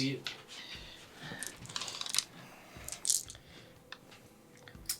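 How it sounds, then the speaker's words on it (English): Dice being gathered up and shuffled by hand during a Warhammer 40,000 tabletop battle, soft close clicks and rattles in scattered bursts, faint and intermittent. "Gathering up the dice."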